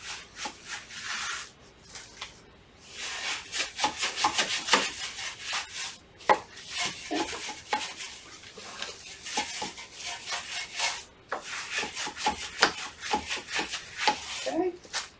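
A brush scrubs a car wheel on a Porsche 997, working between the brake caliper and the wheel barrel in a steady run of close, uneven rubbing and scraping strokes with brief pauses.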